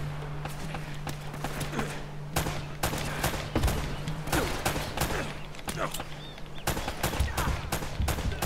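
Video game gunfire from Uncharted: Drake's Fortune, with rapid bursts of shots and scattered cracks over steady background game ambience, a player's voice talking at times among the shots.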